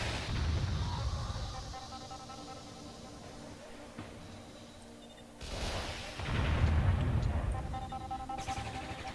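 Defensive turrets open fire in the strategy game Warzone 2100, a series of booming artillery-like shots and rumbling blasts, with heavier bursts near the start and again after the midpoint, set against a steady game background.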